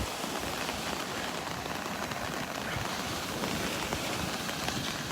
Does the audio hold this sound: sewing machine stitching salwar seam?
no